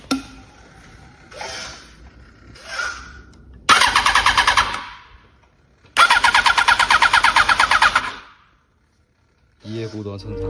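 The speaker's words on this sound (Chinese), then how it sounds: "马达的声音已经是雄厚有力，这代表没有问题" A motorcycle's freshly serviced starter motor cranks in a small garage: two loud, close bursts of rapid rhythmic cranking, each about one to two seconds long, come between quieter mechanical handling noises, with a brief silence near the end.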